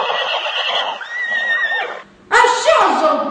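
A voice in a theatre workshop performance imitates a horse neighing, giving two loud, close, wavering whinnies separated by a short gap.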